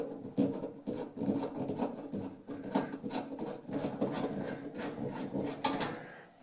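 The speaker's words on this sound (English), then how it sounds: "then you can put these little screws that we took out earlier from this back in" Small screws are turned by hand into a kitchen range hood, producing soft, close scratchy creaks and light clicks in a quiet, uneven rhythm.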